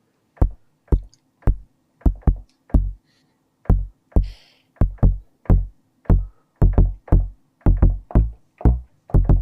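Synthesized drum sound tuned down so it turns into a bass tone, with deep, boomy hits repeating in a bouncy rhythm, each thud decaying quickly, with nothing else heard.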